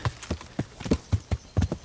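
Horse hooves clip-clop at a steady walking rhythm in the Kingdom Come Deliverance video game, each hoof strike distinct and fairly close, with no talking over it.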